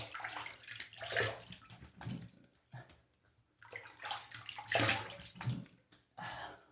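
Water splashes and runs in a sink while the face is rinsed after a wet shave with a boar brush and shaving soap, coming in several uneven, fairly quiet bursts with short pauses between them.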